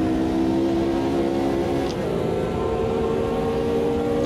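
A Ford GT40 engine drones steadily in Automobilista 2 on a drying track, a sustained close roar that builds gently as the car accelerates, with faint talk in the background.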